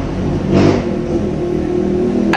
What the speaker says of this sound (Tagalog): Wait lang, ang ingay ng tricycle